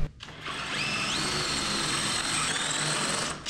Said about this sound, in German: Und hier bohren.